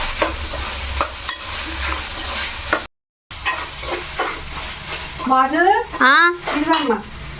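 A vegetable biryani mixture with added ginger paste is stirred in a pan. Scraping and clinking of the spoon sound close over a steady sizzle, with a brief cut-out and a few higher squeaking scrapes near the end.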